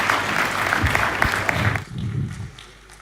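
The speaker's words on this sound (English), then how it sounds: "please give a warm round of applause to His Excellency Wamkele Mene." Audience applause at a shareholders meeting in Maputo, Mozambique, a dense steady clapping from a crowd that fades out over the last second.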